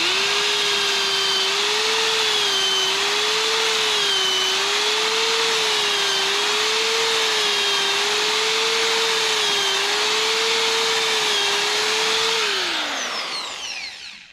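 A power drill with a 1/2 inch speed bore bit bores into a wooden cabin floor, a loud, steady whine with a slight wavering pitch that winds down sharply at the end.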